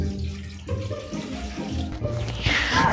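Water runs from a kitchen tap in a home cooking setting, a steady continuous rush heard close alongside clatter, under faint background talk.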